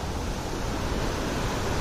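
Water flows outdoors in Austria in a steady, full rushing wash. The close, even hiss holds without pause, with no voices over it.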